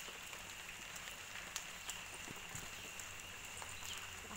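Rain falls during the rainy season in a garden with potted roses and flowering plants, a steady soft patter with occasional louder drops, faint and continuous, with no voices.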